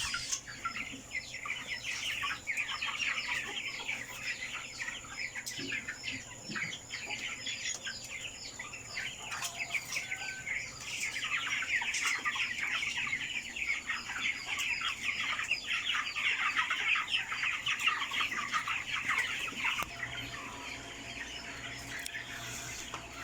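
A crowded pen of 25-day-old broiler chickens on a farm fills the air with a steady, dense chorus of clucking and chirping, continuous and moderately loud with no distinct pauses.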